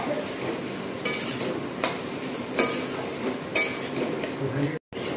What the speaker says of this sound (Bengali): এটাকে ভালো করে একদম মিশিয়ে দিলাম।